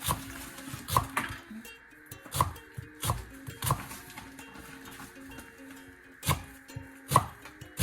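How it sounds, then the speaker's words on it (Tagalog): Onions are chopped with a knife on a board in a kitchen, sounding as sharp, separate knocks at an uneven, unhurried pace, close and fairly quiet, with no voices. "mag-cut na tayo ng sibuyas"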